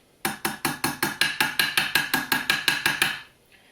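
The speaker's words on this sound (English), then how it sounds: "I also slightly hammer out of center" A small hammer taps out a dent on the metal body of a Conn New Wonder II alto saxophone, about fourteen quick, even, ringing metallic strikes in a steady rhythm, close and clear.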